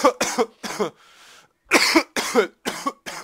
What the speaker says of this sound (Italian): basta con sta tosse